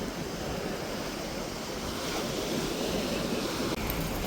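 Sea waves at Dhanushkodi, where the Bay of Bengal wraps around the point: a continuous, loud wash of surf with heavy wind buffeting the microphone, no voices.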